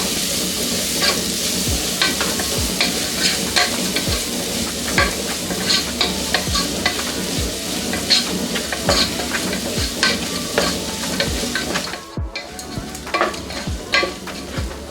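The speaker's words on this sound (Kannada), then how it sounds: "ಈರುಳ್ಳಿ ಗೋಲ್ಡನ್ ಬ್ರೌನ್ ಆಗೋ ತನಕ ಇದನ್ನು ಫ್ರೈ ಮಾಡ್ಕೋಬೇಕು." Sliced onions fry in a pan with turmeric and salt, giving a steady close sizzle broken by regular scraping and stirring strokes, with no talking.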